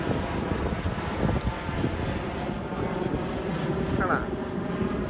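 An airplane passes overhead on a sunny day outdoors in Scotland, a steady broad drone blended with wind noise on the microphone, with voices talking underneath.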